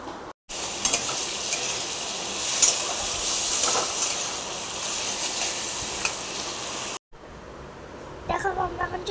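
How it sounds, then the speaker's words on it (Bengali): Curry (torkari) cooking in a pan, a steady loud sizzle and fry that runs nearly throughout with brief breaks, with someone talking over it toward the end. "এবার তরকারিটা বসাবো।"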